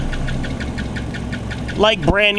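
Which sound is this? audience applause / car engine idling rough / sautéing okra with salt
car engine idling rough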